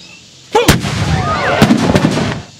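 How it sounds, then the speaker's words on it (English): A 6-pounder cannon fires once in a sharp, loud boom on a battlefield, followed by a rumbling crackle of scattering debris and echo that fades over about two seconds. "the enemy had fired upon us with a 6-pounder. That's a cannon."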